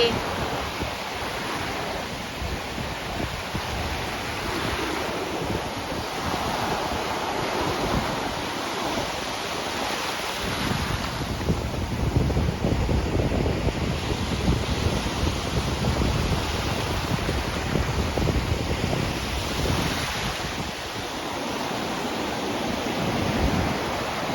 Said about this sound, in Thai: ทะเลยามเย็นนะคะ